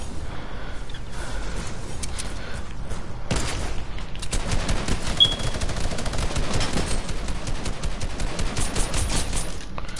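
A full magazine emptied in rapid succession in Fortnite, the automatic gunfire crackling steadily and loudly for several seconds with little pause.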